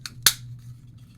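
Two quick plastic clicks from the faces of a Transformers War for Cybertron Trilogy Quintesson figure snapping down into place, the second louder, followed by a quiet low hum.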